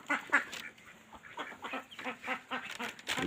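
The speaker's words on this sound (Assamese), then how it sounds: "হাঁহে পেক কৰি আছে।" A duck quacks in a village setting near a house and field, a series of short, nasal calls in irregular bursts, fairly faint and at moderate distance.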